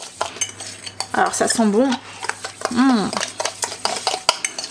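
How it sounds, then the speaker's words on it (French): A spoon clinks and scrapes around a bowl, mixing sugar with orange zest for a rolled orange brioche filling, with a person talking over the busy stirring. "Donc là je vais mélanger mon sucre, mes zestes d'orange ensemble."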